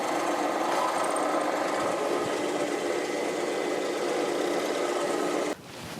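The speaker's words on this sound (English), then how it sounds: "I'm going to drill it out so I can tap it for an M8 screw" A drill bores out a quarter-inch hole to tapping size for an M8 thread, giving a steady, loud whirring grind that runs unbroken for several seconds before abruptly dropping in level near the end.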